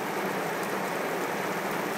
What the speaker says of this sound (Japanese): 雨がかなり強く降っております